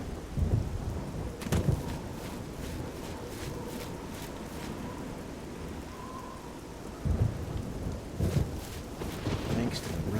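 Rain pours steadily in The Elder Scrolls: Oblivion, with heavy thunder rumbling and cracking near the start and again later over the continuous downpour.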